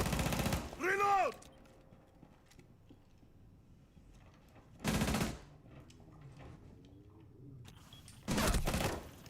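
Bursts of automatic gunfire in a tactical shooter video game, three loud clusters spaced a few seconds apart, with quieter mechanical clicks and faint game sounds between them and a brief voice early on.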